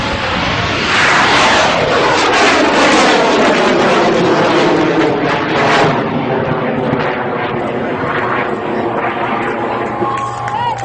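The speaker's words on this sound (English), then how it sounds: "2, 1, ignition!" A very large model rocket lifting off, a loud roaring engine burn that swells quickly and then fades with a falling pitch as it climbs away, with crowd noise beneath.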